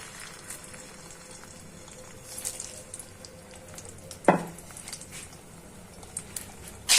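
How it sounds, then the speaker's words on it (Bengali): Faint, steady sizzling of salted, turmeric-coated snakehead fish frying in oil, with a sharp clatter midway and a quiet kitchen around it. "এখন তেলে ভাজা নিব"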